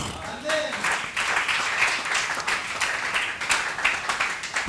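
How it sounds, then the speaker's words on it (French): A church congregation claps and cheers in sustained, dense applause that stays loud throughout, with voices mixed into the noise. "Acclamons le Seigneur"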